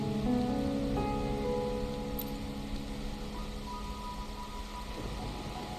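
Rain pours in the video game Wuthering Waves, a steady hissing patter on surfaces around a low ambient drone, continuous and moderately quiet with no voices.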